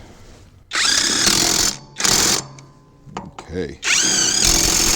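An Alloyman 20V 1/2-inch cordless impact wrench drives lug nuts onto a wheel hub in several loud, close bursts of rattling hammering, with brief pauses between them and a short spoken word in the middle.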